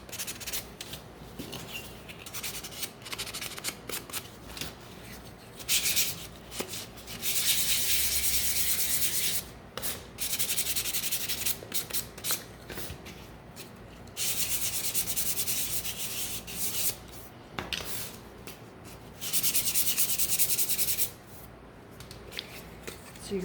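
A painted pumpkin decoration gets light hand sanding in short bursts of dry rubbing, close and fairly quiet, separated by brief pauses.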